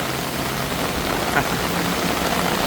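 Steady rain falls on a Bangkok street in the monsoon season, a constant broadband hiss of drops hitting pavement with a faint low engine hum underneath, no voices.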